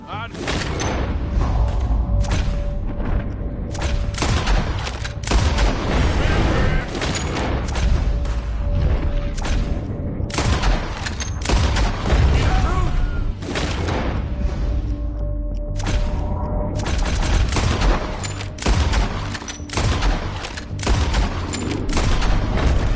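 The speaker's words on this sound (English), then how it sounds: "Told you I could shoot a gun, didn't I?" Dense gunfire from a PS4 game rattles in rapid volleys against heavy low booms and a constant loud din. Short breaks open between the bursts and voices come through in places.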